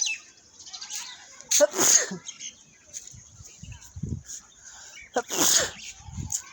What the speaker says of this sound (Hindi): छींक आ गई थी।